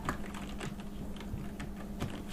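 Typing on a computer keyboard while entering a short post in a Laravel app, a rapid, close run of uneven key taps over a brief stretch, with no speech.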